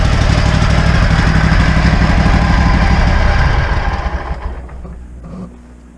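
A SCAG zero-turn mower engine runs on a new carburetor with throttle and no choke, a loud, steady, close-up rumble that holds for about four seconds and then winds down and fades.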